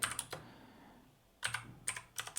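Typing on a computer keyboard: clusters of quick, close key clicks, a short run at the start, then a pause, then two more bursts of tapping, quiet and crisp with no voice.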